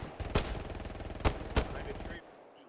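Machine gun fire in the World War II shooter Hell Let Loose, a rapid, close burst of rhythmic shots lasting about two seconds with a few louder cracks, then cutting off abruptly.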